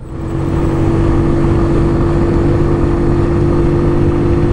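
A loud, steady Superlight 125 motorcycle engine with twin exhaust, still being broken in, drones at a constant pitch after a brief rise, deep and rumbling, close by with no voices.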